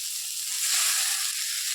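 Pre-fried potatoes dropped into a pan of drumstick curry with spices, giving a steady, bright hiss of sizzling oil that swells slightly midway and continues evenly.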